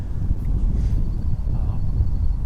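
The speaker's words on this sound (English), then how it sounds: "it's getting windy" Steady wind buffets the microphone with a low, constant rumble and no voices, a faint whistle drifting above it.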